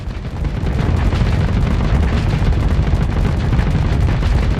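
Flak cannons pound away nonstop in the space combat game Starsector, a loud, dense barrage of overlapping booms and bursts that never lets up.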